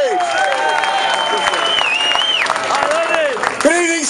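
Audience at a CWA District 1 union gathering applauds steadily for about four seconds, with voices and scattered calls rising over the clapping.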